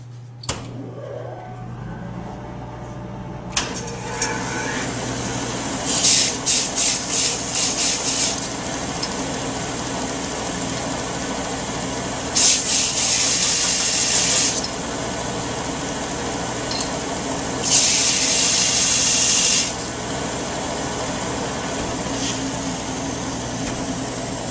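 A vertical belt sander with a level table runs with a steady motor hum, and wood is pressed against the belt in three bursts of loud, raspy grinding, the first broken into short touches.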